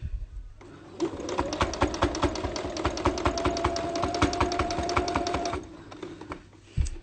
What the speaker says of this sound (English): lift up our foot pedal, rotate, and sew some more